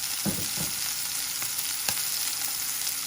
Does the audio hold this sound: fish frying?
yes